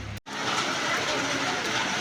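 Heavy rain pouring down at a workplace just before a meeting, a dense, steady wash of noise that continues without a break after a brief dropout at the start.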